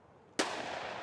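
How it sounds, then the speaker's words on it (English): A single sharp shotgun blast in the Escape from Tarkov shooter game, fired somewhere off in the distance, a sudden crack followed by a long fading tail of reverberation. "Hear the gunshot. That means they're clearing bushes with a shotgun."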